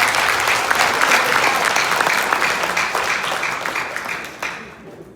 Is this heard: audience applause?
yes